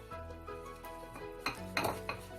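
Banana fritter batter of flour, lemon juice and milk being mixed in a bowl, with quiet clinks and scrapes of a utensil against the dish that grow into a few louder clattering knocks toward the end.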